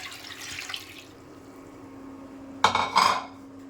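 Water poured into a cooking pot of sautéed prawns, a faint pan hiss giving way to a brief, close splashing pour with a metallic rattle of the pot.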